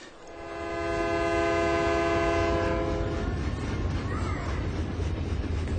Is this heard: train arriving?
yes